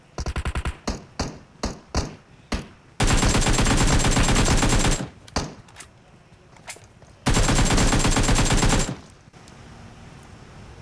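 Gunfire from bot kills in the mobile battle royale game PUBG Mobile: a run of separate loud shots, then two long sustained bursts of rapid automatic fire close up, with no talking.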